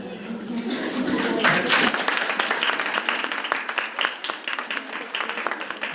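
An audience applauds at a music video premiere, loud dense clapping from a crowd that swells near the start and carries on as a sustained, uneven patter of many hands.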